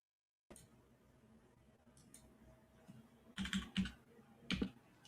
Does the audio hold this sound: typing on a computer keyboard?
yes